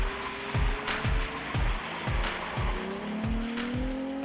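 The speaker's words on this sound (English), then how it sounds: "These are high-powered professional drift cars, some of which are even competition cars." High-powered professional drift cars scream their tires in long rising squeals over a pulsing engine roar, with rhythmic thumps repeating steadily across the run.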